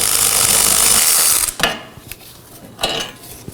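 A ratchet works on the 18mm caliper bracket bolts of a 2018-2024 Chevrolet Equinox 1.5L, a brief burst of clicking and then a few sharp metallic clacks and knocks as the bracket loosens.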